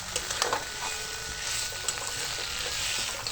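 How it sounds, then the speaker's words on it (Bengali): Potatoes with spices are stir-fried in a pan for aloo dum, giving a soft continuous sizzle broken by a few scraping stirs of a spoon, close and fairly quiet. "আলুর সাথে মশলা ভালো করে কষাবো।"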